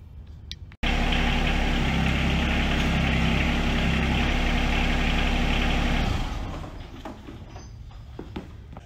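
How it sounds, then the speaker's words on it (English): A tractor engine runs loud and steady while its 3-point hitch raises an implement, then the engine fades to a quieter idle near the end. "We're ready to raise the implement and see if we're adjusted properly."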